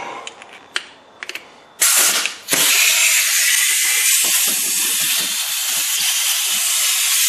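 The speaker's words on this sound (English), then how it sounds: "So let's put the impact wrench on her" A few light clicks come first. Then an impact wrench starts up loudly on a tie rod end nut of a Chrysler 300M, stutters briefly and then runs as a continuous harsh, hissing rattle for several seconds.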